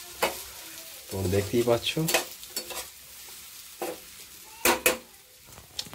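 Potatoes and egg fry and get stirred in a pan for an egg potato dish, with scraping spatula strokes and clinks over a soft sizzle, while someone talks briefly in between.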